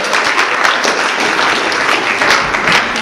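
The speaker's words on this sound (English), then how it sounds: "Give them a round of applause." Audience at an improv comedy show breaking into applause, a dense, loud wash of clapping that holds steady for a few seconds with no speech over it.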